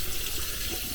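Hot water runs steadily from a shower faucet, a continuous loud hiss of flowing water with no pauses.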